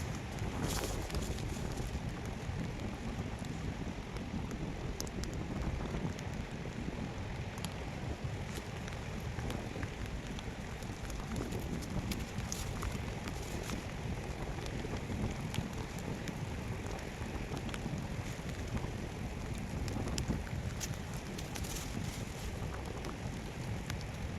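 Steady, dense rainfall hisses continuously across the whole stretch, a heavy downpour with no pauses and no voices.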